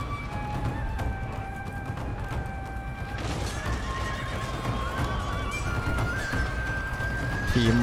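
Samurai-era cavalry horses in a Total War: Shogun 2 battle neigh and whinny repeatedly over a dense rumble of hooves and battlefield noise, with long drawn-out cries rising clearly above the din.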